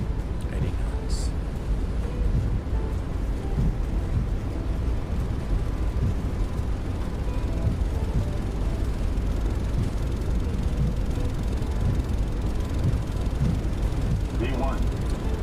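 Boeing 757 jet engines roaring through the takeoff roll, a steady, heavy low rumble that continues unbroken, with cockpit voices and radio chatter over it.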